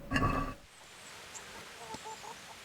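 A chicken in the medieval game Kingdom Come: Deliverance gives a few faint, scattered clucks after a short burst of louder game sound at the start.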